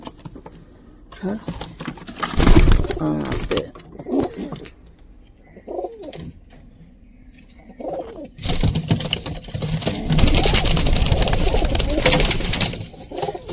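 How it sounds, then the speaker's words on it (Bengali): Pigeons cooing and scuffling in a nest, repeated low coos in short bursts with flapping and patter, and a loud flurry of wingbeats toward the end, alongside a person talking. "এখানে সব কবুতরগুলো মারপিট করতেছে"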